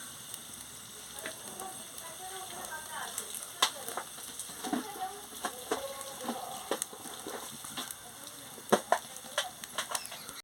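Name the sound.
frying dried chili and spices in hot oil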